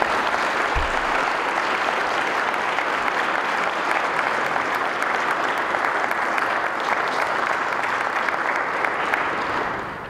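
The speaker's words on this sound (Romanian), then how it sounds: "să-i rog pe cei din audiență să vă aplaude pentru munca de peste 20 de ani" An audience claps at a town council and mayor investiture ceremony, producing dense, sustained applause at a steady, fairly loud level for about ten seconds with no speech over it.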